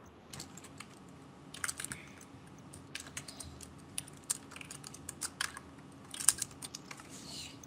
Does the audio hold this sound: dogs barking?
no